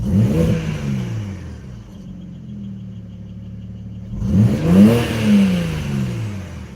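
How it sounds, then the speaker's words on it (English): A Chevrolet C5 Corvette engine is blipped twice, each sharp rev rising and falling back to a rumbling idle in between, loud and close with no talk. "Let's just blip this real quick, make sure it doesn't misfire."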